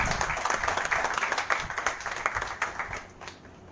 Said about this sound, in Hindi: आप मुझे प्रोत्साहित कर सकते हैं ताली बजाकर